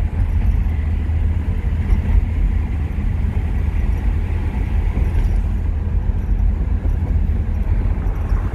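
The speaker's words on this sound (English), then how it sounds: "That's the air conditioning." Steady low rumble of air conditioning running inside a 1966 Pontiac Star Chief Executive, a constant even drone filling the cabin with no talk over it.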